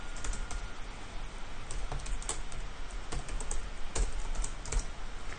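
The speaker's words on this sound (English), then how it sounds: "Just typing in everything exactly the way I see it on the screen" Computer keyboard keys tapped in irregular quick bursts of clicks while entering R commands, close and fairly steady, no talking.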